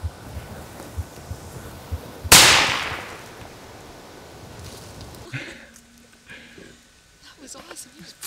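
A single sharp rifle shot fired at a mule deer during an Alberta hunt at 285 yards, loud and close with a long decaying echo rolling across open country, with quiet voices before and after.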